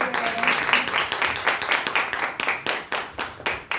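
An audience at a Mrs. India Inc pageant event breaks into dense, energetic applause, a loud rolling mass of clapping that surges and dips in waves across a few seconds.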